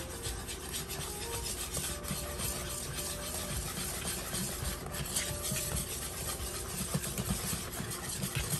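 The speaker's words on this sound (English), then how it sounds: "now I'm gonna start mixing and whisking this up" A whisk scrapes and rasps steadily through pancake batter in a bowl, a continuous close-up rubbing sound with a faint background hum and no talking.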